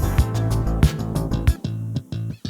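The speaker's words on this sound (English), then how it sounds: "A funky guitar." A funky electric guitar plays short, choppy, rhythmic strums over a deep low end, in a brief, punchy music loop.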